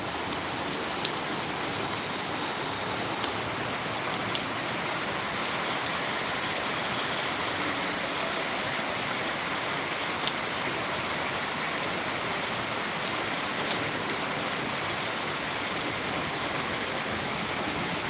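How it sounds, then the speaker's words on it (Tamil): Steady rain pours down continuously in Tirunelveli, India, a dense hiss with scattered sharp drips and taps, no voices. "இன்றைக்கி ஆக்சுவலாக நல்ல மழை பெஞ்சிகிட்ருக்கு"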